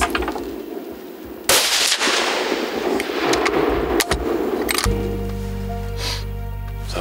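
Hunting rifle fired at a roaring stag, one sudden loud close crack with a brief echo, followed by rustling, a second sharp impulse and a steady low hum afterwards.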